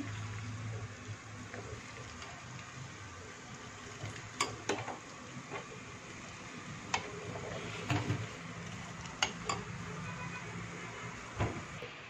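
Red onion frying in oil for homemade hair oil, a soft steady sizzle with occasional stirring clicks and taps, fairly faint and close, no talk.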